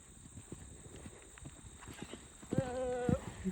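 A green draft horse canters in a field, its hoofbeats faint and muffled under steady wind or rustle. A louder boxy, whinny-like tonal burst comes near the end.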